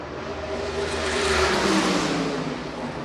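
USAC Silver Crown race cars at Du Quoin State Fairgrounds roar past, a broad engine drone swelling to a peak midway and easing off, loud and continuous.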